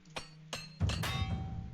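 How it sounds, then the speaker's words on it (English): A repair hammer in the Oblivion video game taps twice with light clinks before a heavier metallic crack and thud as it breaks during armor repair, ending in a short ringing tail, loud and close. "Broke another hammer. Okay."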